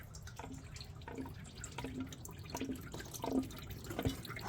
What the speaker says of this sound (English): And you can hear the coolant pouring out now.